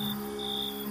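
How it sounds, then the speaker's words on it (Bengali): Crickets chirp at night in a deserted village, a steady high continuous trill with a faint second tone rising and falling, heard alone against a constant low background hum. "চারিদিকে শুধু রাতজাগা পাখি আর ঝিঝি পোকার ডাক ছাড়া আর কিছুই শোনা যাচ্ছে না।"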